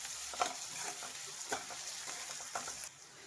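Chicken for pepper chicken dry sizzling steadily in a pan while a spoon stirs it, with scraping strokes at intervals over the constant frying hiss before it quiets.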